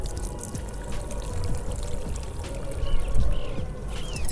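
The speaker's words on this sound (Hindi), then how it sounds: "इस तरह से हाथों की मदद से आपको इस तरह से पौधे में डाल देना है" Water mixed with onion peel is poured by hand into a potted mogra (jasmine) plant, making a continuous rushing, splashing pour that swells slightly toward the end.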